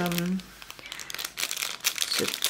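A small plastic packet is torn open with close, steady crinkling and rustling, after a voice briefly speaks at the start.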